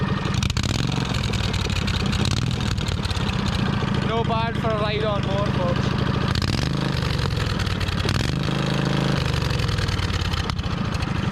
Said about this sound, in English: Currently it's got no exhaust apart from that straight pipe. But it sounds like a Harley Davidson.